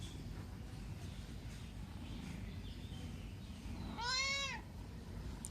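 A single drawn-out cat meow rises and falls near the end, clear and close, over a steady background hiss, with no talk.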